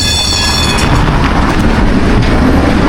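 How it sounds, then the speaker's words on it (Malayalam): A loud old tram in Lviv, Ukraine rumbles along its rails nearby, with steady clattering wheels and a low mechanical drone. "പഴയ ട്രാം കേട്ടോ"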